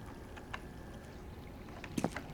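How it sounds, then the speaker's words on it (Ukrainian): A small waterfall on a Counter-Strike 2 map rushes softly as a steady, faint watery wash, with a few light splashes and a brief louder burst near the end. "Тут такий водоспадик."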